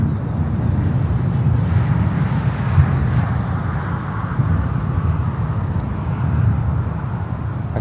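An American Airlines jet, flight 443 from Dallas Fort Worth, arrives on runway 9 at Miami Airport, heard as a steady low distant engine rumble mixed with wind buffeting.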